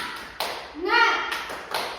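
A classroom of children does a rhythmic spirit clap in a few sharp, close bursts, with young voices chanting along between the claps.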